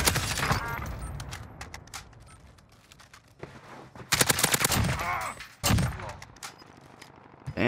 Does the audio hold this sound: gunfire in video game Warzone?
yes